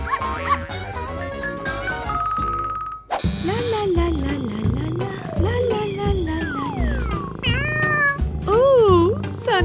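A cat meows repeatedly in rising and falling cries over busy background music and sound effects.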